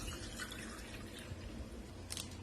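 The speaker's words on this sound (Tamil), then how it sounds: "இப்போ இதுல வந்துட்டு நம்ம தண்ணி ஊத்திக்கலாம்." Water poured into a glass while making a lemon mint virgin mojito, a steady soft splashing trickle that runs the whole time with a brief brighter burst near the end.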